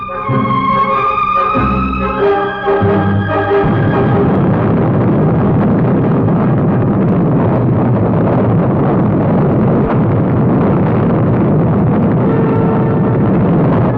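An Atlas rocket carrying the Mercury Friendship 7 capsule lifts off with a loud, sustained roar that follows a brief musical or tonal opening, filling the whole stretch with heavy, continuous rumble.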